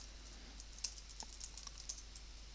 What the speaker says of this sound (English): My typing's not good.